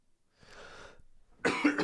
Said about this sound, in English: still got this terrible cough